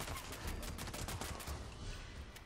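Rapid, dense bursts of explosive rifle gunfire from the Executioners Explosive Handmade in Fallout 76, fired at super mutants in Mutiesville, with sustained, overlapping blasts that stay loud throughout the clip.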